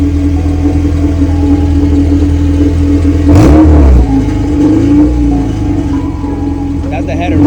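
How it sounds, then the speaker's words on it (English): A car engine running through an open header with no exhaust fitted idles with a loud, steady rumble and then gives one quick, sharp rev that drops straight back to idle. "Give it a quick little rev"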